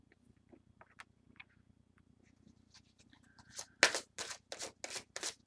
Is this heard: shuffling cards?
yes